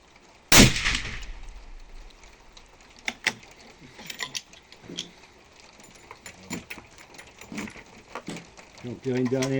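One sharp, loud report from a .338 Lapua Magnum rifle at the start, followed by softer clicks and mechanical handling sounds, with a voice speaking briefly.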